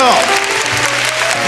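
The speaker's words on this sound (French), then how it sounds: "Alors vous êtes tous premiers ex aequo et le public applaudit d'autorité." TV studio audience applauding on a 1977 French children's singing show, a dense burst of clapping running through the whole moment with a voice speaking over it.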